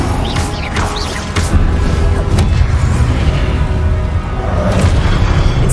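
Confringo blasting spell explosions in the video game Hogwarts Legacy, loud booming bursts over a dense rumbling game soundscape, with a few sharp cracking hits.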